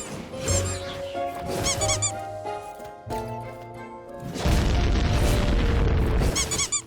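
Aino's basic attack combo in Genshin Impact lands in bursts of heavy booms, clanks and squeaky mechanical chirps, with short pauses between strings and the loudest, densest flurry at the end.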